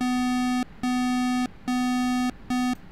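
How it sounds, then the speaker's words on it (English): A buzzy electronic cockpit warning tone in a Mirage 2000C flight simulator game beeps in four long on-off pulses, steady and insistent, with faint background hiss. "When you turn this on, it is going to sound a warning."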